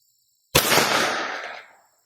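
A single loud shot from a Flux Defense Legion pistol firing 147 grain rounds, a sharp crack that rings out and decays over about a second, alone in an otherwise quiet space.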